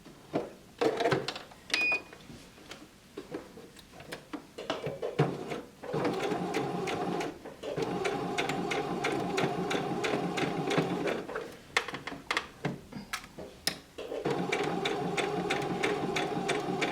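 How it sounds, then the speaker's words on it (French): A sewing machine stitches around the flap of a fabric pouch. Long steady runs of close, whirring needle chatter alternate with clicks and handling noises during the pauses. "je vais venir piquer tout autour jusque là et en démarrant de là"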